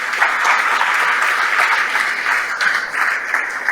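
Loud, close congregation applause during a Catholic homily celebrating Divine Mercy, dense clapping sustained evenly from start to finish.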